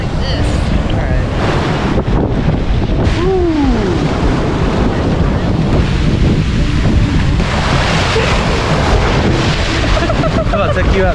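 Ocean surf washing onto a California beach with strong wind buffeting the microphone, a steady broadband roar throughout; voices talk briefly over it.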